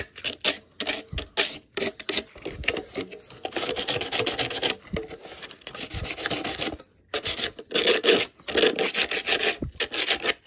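Corners of a metal tin are roughened for a distressed look, giving sustained rasping, filing-like scrapes in repeated strokes with brief pauses, close and fairly loud throughout with no talking.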